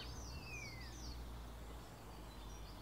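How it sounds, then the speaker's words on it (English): Faint bird chirps and a thin whistled call sound over a steady low outdoor hum, distant and sparse. "you also heard the birds chirping"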